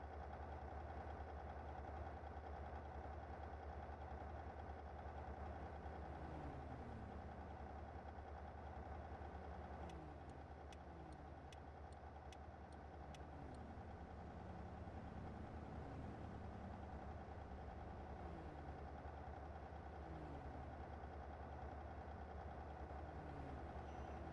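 A Kenworth truck in American Truck Simulator idles with a low, steady rumble and a faint knock. The hum stays even throughout, with brief ticking in the middle and no voices.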